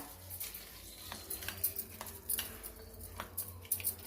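Mint chutney being stirred in a pan, with soft scraping and clinking of a spoon against the metal in an irregular rhythm, quiet and close, with no voices.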